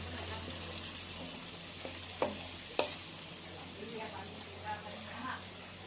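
Okra fries in hot oil with turmeric: a soft, steady sizzle with a few sharp clacks of a spoon against the pan, fairly faint, with a voice speaking quietly over it.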